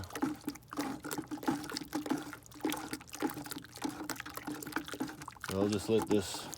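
Plaster mix is stirred in a bowl with a steady, rapid, wet swishing and scraping rhythm, its pace shifting near the end.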